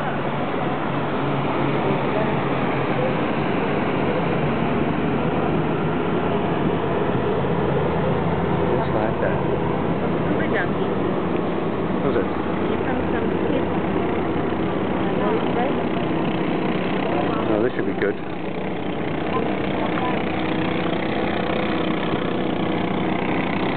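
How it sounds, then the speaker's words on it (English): A steady speedboat engine drone runs throughout near a water village in Semporna, Sabah, with faint voices underneath; it stays fairly constant rather than clearly rising and fading. "Here comes the speedy boat."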